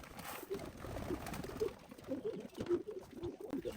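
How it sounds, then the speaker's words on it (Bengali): Pigeons in a crowded loft kept for meat and crossbreeding give repeated soft, low coos at close range, rising and falling in short bursts over a dense shuffling background with no talk. "জায়গার তুলনায় সম্ভবত কবুতর সংখ্যা একটু বেশি"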